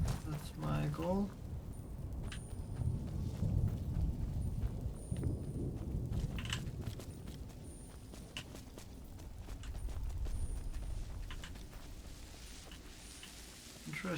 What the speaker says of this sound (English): that was actually a horse